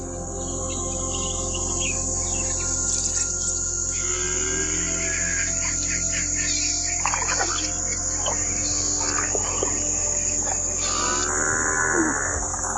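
A large herd of buffalo gathered at a waterhole in the drought-stricken savanna lows in long, deep moans, several animals calling over a steady hiss of crickets and insects.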